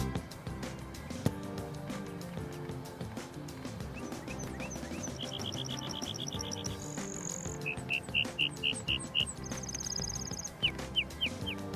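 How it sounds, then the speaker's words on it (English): A grasshopper sparrow sings close by on open Colorado grassland in spring, giving several short, high, thin buzzy phrases over a busy bed of other chirping birds and background sound. "We usually only hear these grasshopper sparrows, and this one was right near us, and he was singing"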